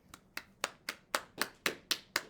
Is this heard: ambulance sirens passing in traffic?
no